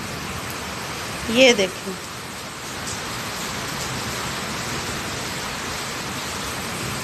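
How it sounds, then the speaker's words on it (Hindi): Heavy monsoon rain pours steadily outdoors as a dense, even wash of noise that continues throughout, with someone briefly speaking near the start. "इस बारिश हो रही है। अल्हम्दुलिल्लाह ये मानसून का तीसरा स्पेल है।"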